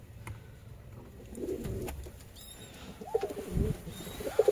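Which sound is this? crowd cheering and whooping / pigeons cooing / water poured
pigeons cooing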